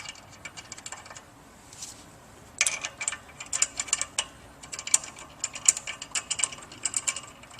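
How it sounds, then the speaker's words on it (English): Bolts being inserted into the shaft of a Pentax booster water pump, a run of small metallic clicks and ratcheting taps, sparse at first, then a quicker cluster of sharp ticks close by. "We'll just begin inserting the bolts."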